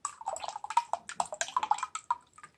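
Meatloaf drippings and tomato sauce poured into a bowl, with a quick run of close wet splashes, drips and glugs over a couple of seconds.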